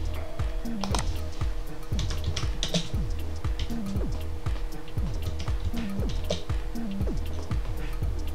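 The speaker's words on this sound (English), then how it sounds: "I'm gonna type in the chat." Steady, fast clicking of keys on a computer keyboard, close and continuous, mixed with rhythmic background game music and no talking.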